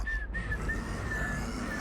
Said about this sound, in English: It's whistling.